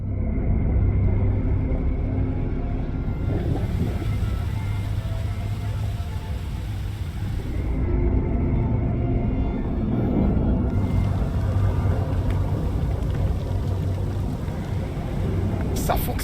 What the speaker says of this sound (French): J'allume les moteurs.